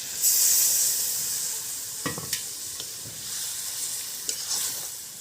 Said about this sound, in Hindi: पानी छींच के भूनबो।